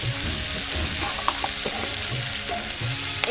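Fish sizzling in a pan during village cooking, a loud, dense, continuous frying crackle with scattered pops and no voices.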